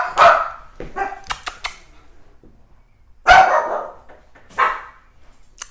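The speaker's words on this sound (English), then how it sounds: "Oh, that's my dog. I'm sorry." A pet dog barks indoors, loud and close, in a few sharp separate barks with brief pauses between, and no one speaks over them.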